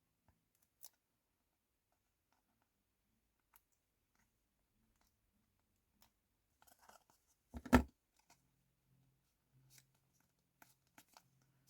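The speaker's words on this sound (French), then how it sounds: "Alors là, je vais prendre mes ciseaux. Je vais juste couper comme ça." Scissors snip through paper during a Rolodex-punch card craft, one short, close crunching cut in an otherwise quiet stretch dotted with faint clicks and handling taps.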